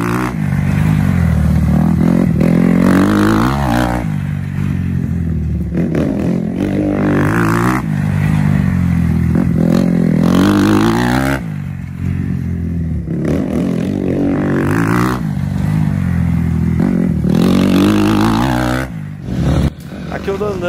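Motorcycle ridden hard through curves on a track behind another rider, the engine revving and easing in repeated surges with gear changes, loud and close, with someone talking over it.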